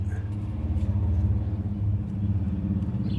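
Low, steady rumbling drone of a Chevy 6.5 turbo diesel engine with a db2831-4911 injection pump held at full throttle, close and loud, with a slight pulsing waver and no voices.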